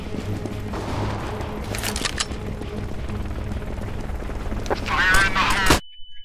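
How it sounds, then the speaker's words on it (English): Grenades go off in Counter-Strike GO on the Dust II map, a dense run of loud bursts and crackling gunfire-like blasts piling up for several seconds under voices, then cutting off abruptly. "They're throwing grenades."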